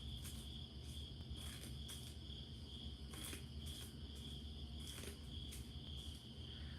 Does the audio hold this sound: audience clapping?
no